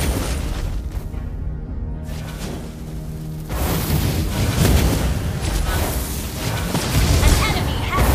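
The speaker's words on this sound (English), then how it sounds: "Your team destroyed the turret." A turret is destroyed in Mobile Legends with booming in-game explosions and whooshing effects amid continuous battle noise, with an announcer voice heard.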